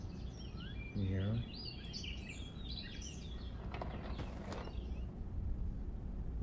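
Birds chirp outdoors in scattered, faint calls and tweets, with a brief low buzzy sound and some flutter, against a quiet background.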